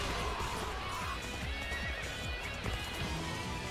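A horse in the video game Dynasty Warriors 3 Remaster neighs with a drawn-out whinny while its hooves clip-clop rapidly at a gallop, a brief, close and fairly quiet burst of game audio.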